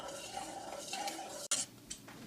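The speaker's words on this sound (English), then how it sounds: "Just keep stirring." A spoon stirs a thickening dessert mixture in a pot, scraping and clinking against the sides in a steady near rhythm, with one sharp knock partway through.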